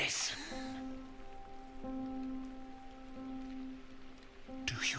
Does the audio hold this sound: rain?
yes